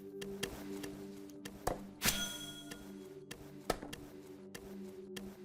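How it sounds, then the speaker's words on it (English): Repeated wooden thunks of a tree being chopped in the online game BitCraft, sharp evenly spaced strikes over a low steady in-game background hum, with one louder crack partway through. "Should we just keep chopping this till we actually level?"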